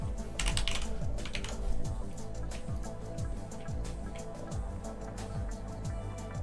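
Rapid typing on a computer keyboard with a dense run of key clacks near the start, then scattered keystrokes over a low background hum.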